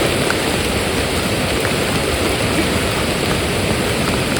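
Floodwater of the Paishuri river swelling and overflowing in the rain, heard from near a hanging footbridge as a loud, steady, dense roar of rushing water and rainfall with no pauses and no voices.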